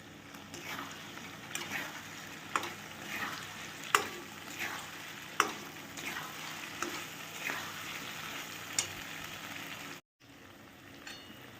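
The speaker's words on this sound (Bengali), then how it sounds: "আলুটা দিয়ে দিলাম, দিয়ে ভালো করে কষাবো।" Potato pieces fry in oil with a little ghee, a steady close sizzle broken by regular spoon scrapes against the pan, then a brief cut near the end before the frying resumes.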